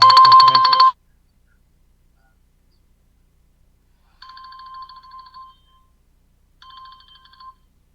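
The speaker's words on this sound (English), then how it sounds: "phone going off there" Phone ringing during a webinar, a loud burst of tonal ring at the start, then two fainter, shorter electronic ring bursts after a long silence.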